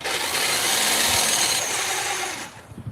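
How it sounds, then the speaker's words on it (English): A double insulated buffer polisher, used in work on a 1967 Dodge Dart, runs with a steady loud whirring hiss for most of the moment before cutting off near the end. "this is a buffer polisher, double insulated"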